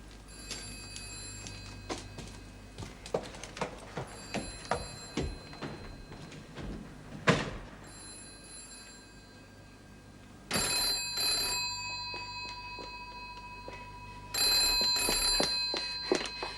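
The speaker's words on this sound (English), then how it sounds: "Sounds like the phone's ringing." A telephone rings in two bursts, a bell-like trill sounding twice at a steady interval over quiet background rustling.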